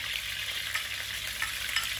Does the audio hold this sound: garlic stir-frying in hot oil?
yes